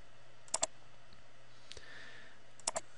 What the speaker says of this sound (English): I'm going to manually type in a number like 60 and press enter.